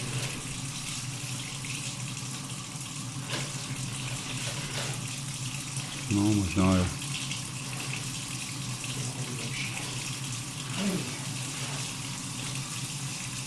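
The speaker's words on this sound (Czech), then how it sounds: "Ale tam proteče voda, že nám to očistí." Water rushing through a drain pipe during a drain-cleaning job, a continuous even flow with a brief spoken exchange partway through.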